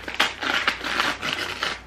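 Crinkling and crunching as a scented candle in a shattered glass jar is handled, with repeated close, scratchy crackles of broken pieces shifting throughout.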